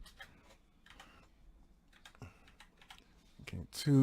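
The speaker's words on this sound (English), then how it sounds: "So rapid fire, this is the silent version" Typing on a Corsair STRAFE RGB MK.2 keyboard with MX Silent switches: soft, rapid muffled keystrokes in quick bursts, close by, with a voice talking over them and a louder clunk near the end.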